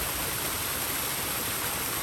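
Cold wild-swimming waterfall pouring steadily into a pool outdoors, a dense, constant broadband rush of falling water close by with no voices over it.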